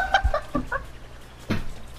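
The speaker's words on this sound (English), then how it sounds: "The chicken." Cartoonish chicken clucks from the video game Fall Guys: a few short, choppy squawks in quick succession, with a low thump near the start and another burst later, close and moderately loud.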